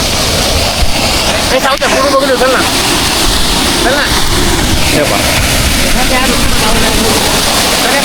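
Swollen, fast-flowing stream water surges across the Kalsubai trail, a loud, continuous roar with buffeting wind that never lets up while someone speaks briefly over it.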